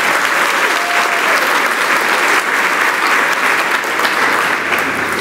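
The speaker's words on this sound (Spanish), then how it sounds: "Denle un aplauso a Dios" Loud, dense applause from a church congregation during a Sunday service, a steady continuous roar of many hands clapping together throughout.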